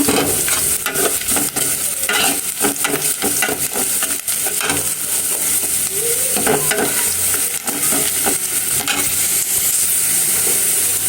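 Onions and potatoes frying in a pan, a loud continuous sizzle with frequent scraping and clattering of a spatula stirring through the pieces.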